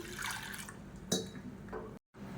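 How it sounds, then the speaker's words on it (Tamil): Water poured from a vessel into a pressure cooker holding washed lentils for rasam, a steady splashing fill with a sharper splash partway through, close and alone, then a brief cut to silence. "இப்போ இதில் தேவையான அளவுக்கு தண்ணி சேர்த்துக்கலாம்."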